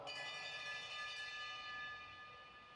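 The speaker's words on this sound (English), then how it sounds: "here comes the bell" A bell rings out for the final lap at a track cycling race in downtown Detroit, a loud sustained metallic ringing with bright overtones that slowly fades, heard without speech.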